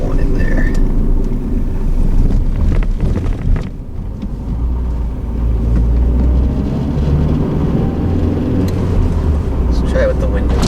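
Engine of a Honda Accord with a bad running condition, heard from inside the car as a loud, continuous low drone that dips and surges as it revs, with a person talking over it.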